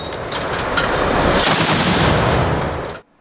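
An armoured personnel carrier (BTR) firing during a Rosgvardia Komi exercise at Sokolovka near Syktyvkar, a loud, close, sustained roar of rapid fire lasting about three seconds before cutting off into silence.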